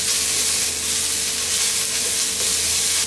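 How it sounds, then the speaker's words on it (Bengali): Cabbage, capsicum and other vegetables fry in a pan for chicken chow mein, a loud steady close sizzle throughout with no talk. "এটা দিয়ে মিনিট খানেক একটু ভাজবো"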